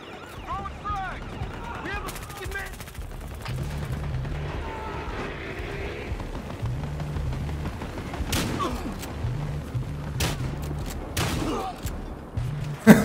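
Gunfire in the video game Battlefield Hardline, with bursts of automatic shots and scattered single cracks over a low rumbling game backdrop, mixed beneath a player's voice.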